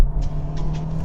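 A Toyota GR Yaris and a Honda Civic Type R accelerate hard side by side in a drag race, their engines a steady, loud rumbling drone close by with faint rising whine, no voices.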